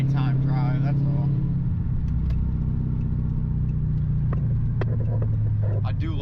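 A Chrysler 300 SRT8 on a night drive gives a steady low engine rumble from inside the cabin. Someone talks over it at the start, with a few faint clicks and thumps later on.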